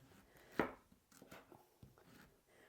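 A knife chops meat into cubes for West Sumatran rendang on a board, one sharp close thud followed by a few softer, quicker cuts in a quiet kitchen.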